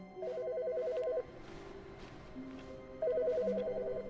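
A telephone rings in The Stanley Parable, two clear bursts of electronic bell ringing near the start and end with a gap between them over quiet game ambience.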